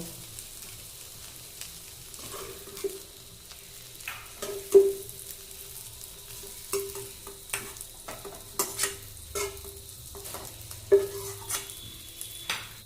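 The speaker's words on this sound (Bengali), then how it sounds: "গ্যাসটাকে মিডিয়াম ফ্লেমে রেখে 5 থেকে 6 মিনিট কুমড়োগুলো ভেজে নেব" Pumpkin pieces fry in oil on a medium flame, a soft, steady sizzle broken by intermittent scraping stirs of a spatula against the pan, close and moderate in level.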